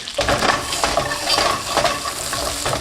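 Knobs of butter with a touch of oil sizzling in a pan over low-medium heat, a dense continuous fizz with soft clinks and stirring scrapes throughout, close and fairly loud.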